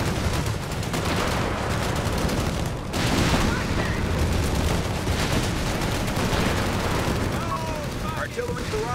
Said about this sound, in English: Artillery barrage underway.